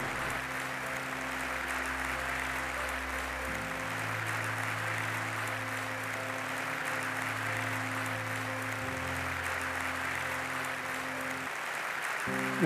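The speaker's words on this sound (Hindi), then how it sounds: "तो ढेर सारी तालियों के साथ स्वागत करें मिस्टर नीरव।" Audience applause welcoming a speaker to the stage at a public-health awareness event, a steady, dense wash of clapping that sustains evenly for about twelve seconds over a faint tonal hum, with no voices.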